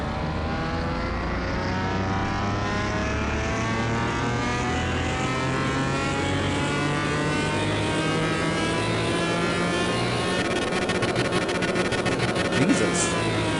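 A Bizzarrini V12 in the Car Mechanic Simulator game revving on a dyno, its loud, continuous engine note climbing steadily in pitch as it winds up toward high revs.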